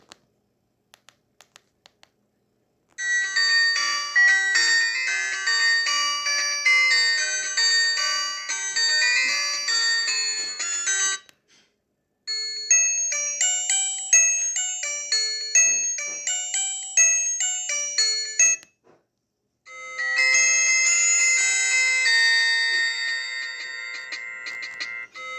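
A custom ringtone plays from an Alcatel 1068D mobile phone, bright electronic melodic tones in three bursts separated by short pauses, fairly loud and close, preceded by a few faint clicks.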